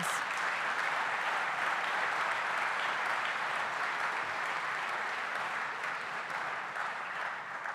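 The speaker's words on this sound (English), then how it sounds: "Will you give a round of applause for Mr. Cornelius?" Sustained applause from an audience at an awards event, steady and full-bodied throughout with no break, clapping filling the room evenly from start to finish.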